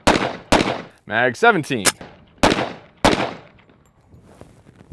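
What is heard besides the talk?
gunshots from a double-barrel pistol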